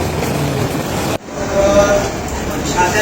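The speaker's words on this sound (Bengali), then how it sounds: "এখন ট্রেন চলেই যাচ্ছে পেছন মুখ করে শিয়ালদার দিকে" A train rumbles and pulls away from Sealdah station with a low steady roar, voices talking over it, and a brief sharp break partway through.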